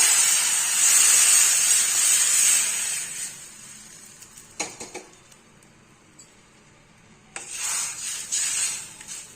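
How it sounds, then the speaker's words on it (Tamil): A loud sizzling hiss as a tomato mixture hits a hot pan, followed by a few clinks of a utensil against metal, then the sizzle rises again. "இந்த கரைசல்லாம் இதில் சேர்த்துக்கலாம்"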